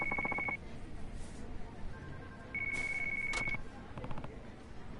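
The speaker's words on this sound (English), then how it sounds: "Oh god, the phone!" A phone rings in the Yakuza 5 video game, with repeated electronic ring bursts separated by short gaps amid game background sounds.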